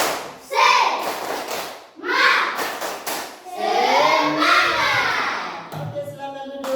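Schoolchildren in a classroom chant together in rhythmic unison while clapping along, loud group voices with bursts of hand claps between the shouted phrases.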